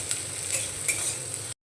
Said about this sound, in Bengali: জিরে আর কালো সর্ষেটা ভাজা হয়ে গিয়েছে, দিয়ে দেব কুচনো পেঁয়াজ।